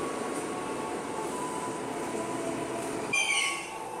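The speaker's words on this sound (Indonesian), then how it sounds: "Suara remnya berisik banget" A KRL commuter train's brakes at Sudirman station let out a loud, shrill squeal near the end, cutting sharply above a continuous low rumble of the carriages.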